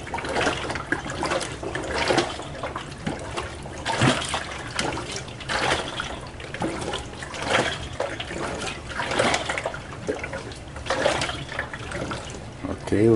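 A WonderWash hand-crank washing machine rinses laundry, its water sloshing and churning in steady repeated surges close by, with a person talking now and then over it.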